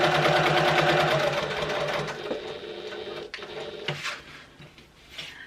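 Sewing machine running steadily as it top stitches and bastes along the edges of a clutch wallet, a continuous buzzing whir that slows and stops near the middle, followed by a few light clicks and short restarts.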